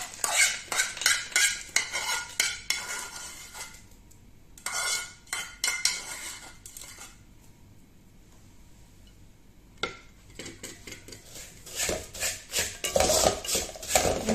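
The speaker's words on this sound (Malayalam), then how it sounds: "അപ്പം നമ്മൾ വറുത്ത് വെച്ചിരിക്കുന്ന ഇതെല്ലാം കൂടെ ഇതിനകത്തോട്ടിട്ട് ഇളക്കാം." A metal spoon scrapes and clinks against a pan while roasted gram, cashews, peanuts and sesame are stirred into sweetened aval (flattened rice), in bursts of busy clatter with a quieter pause in the middle.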